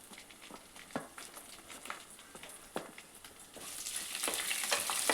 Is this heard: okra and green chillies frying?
yes